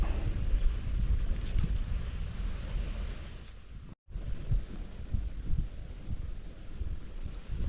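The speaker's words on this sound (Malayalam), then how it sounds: "നല്ല കാറ്റുണ്ടല്ലേ" Strong wind buffets the microphone in a steady low roar, with gusting rumble throughout and a brief dropout partway through.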